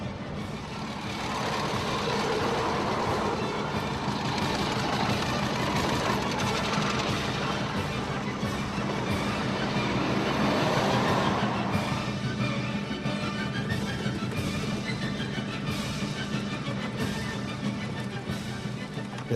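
A steam traction engine running along a road, giving a steady loud mechanical rumble and clatter with rhythmic chuffing that carries on throughout and eases slightly toward the end.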